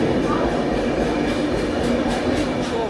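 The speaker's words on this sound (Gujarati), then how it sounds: "પ્લેટફોર્મ નંબર 1 ઉપરથી જઈ રહી ટ્રેન તે કહેવાય છે 59049 વલસાડથી ચાલીને વડોદરા સુધી જતી ઇન્ટરસિટી સુપરફાસ્ટ એક્સપ્રેસ ટ્રેન છે" The Valsad–Vadodara Intercity Superfast Express, train 59049, passes on platform 1 in a steady, close, dense rumble of wheels and carriages that continues throughout.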